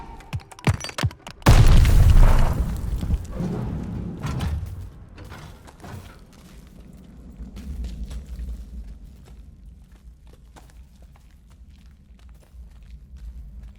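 A grenade goes off in the war video game Call of Duty Vanguard: one sudden heavy boom, followed by a fading rumble with scattered clicks and mechanical clatter.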